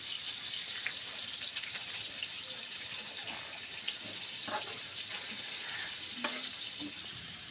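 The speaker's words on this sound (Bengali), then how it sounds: "পেঁয়াজ মরিচ আমার লাল লাল করে ভাজা হয়ে গেছে।" Onions and chillies sizzling steadily in a hot pan for a fish curry, a continuous bright hiss with small pops and occasional stirring clinks, close and even throughout with no talking.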